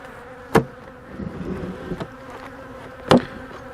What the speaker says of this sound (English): I see bees here.